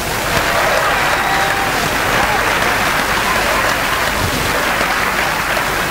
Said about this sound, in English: A special applause for them.